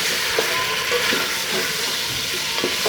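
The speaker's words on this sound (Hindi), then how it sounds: "इसको मैं अच्छे से मिक्स करती हूँ इस तरीके से" Ginger, garlic and green chili paste being stirred into sizzling chicken karahi, a steady close frying hiss with soft scrapes of the spoon every half second or so, and no talking.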